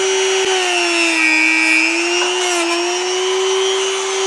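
A power sander with a 120 grit abrasive runs steadily on a grimy car interior component, a continuous close whine with a faint rubbing texture and no talk.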